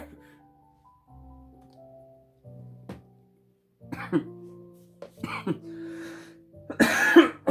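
A few separate coughs come out, harsh and close, with quiet pauses and low murmurs between them, the last burst loudest.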